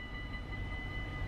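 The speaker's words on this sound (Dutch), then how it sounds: "Kijk, en dan zo'n trein voorbij komt." A passing train in Train Simulator 2016, heard as a steady, close rumble with continuous low-end roar and faint high tonal whine, holding level without a break.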